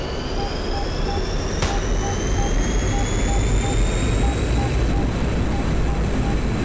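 MiG-21 jet engine in DCS, a steady loud roar with a rising high whine, continuous throughout with a brief sharp click near the start.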